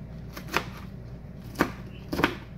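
Vegetables being chopped on a board for a chicken and vegetable dish, three or four separate knife strikes spaced unevenly over a quiet room background, no speech.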